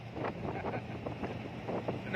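Steady storm wind on a farm roaring and buffeting across the microphone, a continuous low rumble with gusty swells and no voices.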